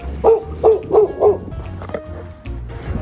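A dog gives four quick, loud barks close by in an even rhythm, followed by quieter faint sounds, with no speech.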